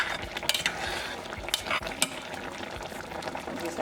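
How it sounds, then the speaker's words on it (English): A pot of Nigerian seafood okra soup simmers with bubbling and soft popping, punctuated by a few sharp clinks and scrapes, close by with no talking. "As you can see, our okra soup is boiling"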